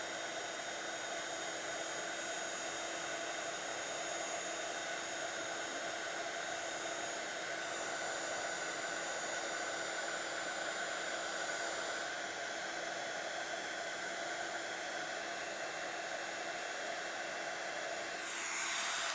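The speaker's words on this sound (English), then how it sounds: "just hold your heat gun still over those areas" A heat gun blows hot air over card in a steady, even whoosh that holds for the whole stretch, moderately loud and close, with no talk.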